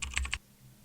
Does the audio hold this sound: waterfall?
no